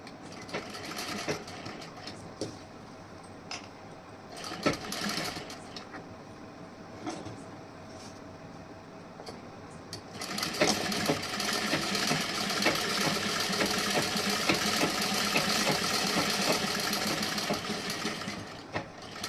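A sewing machine stitches the side seam of a princess-cut blouse, its steady running hum rising to a loud continuous burst in the second half after short start-stop runs.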